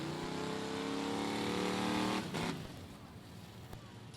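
A race car engine drones at high revs down the track at a Lone Star 600 race, then drops off sharply as it passes and fades, leaving distant track noise.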